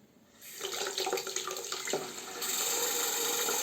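Tap water runs steadily into a sink to rinse a shaving brush, a continuous close hiss that starts softly and grows fuller and louder partway through, with no voices.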